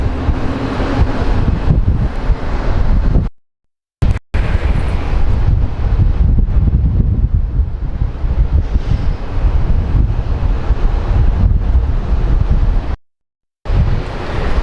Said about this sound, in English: You can see the force of the wind